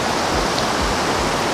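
River water in the Ilsetal rushes steadily around a small tree standing in the middle of the stream, a close, continuous hiss and gurgle with no other sounds.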